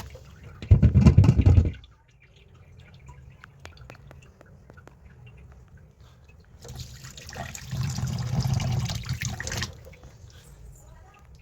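Paneer is rinsed under cold water: a loud gush of running water at the start, then a quieter stretch, then a longer steady flow of water, close by.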